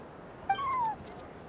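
A cat in the fantasy game Genshin Impact lets out one short, high meow that slides downward, close and clear over a quiet background hum.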